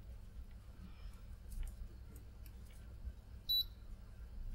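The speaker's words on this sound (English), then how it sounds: "Single bleep 172 on the Schottky." A TOOLTOP ET13S multimeter gives a single short, high continuity bleep during a diode test on a Schottky, faint against quiet room noise.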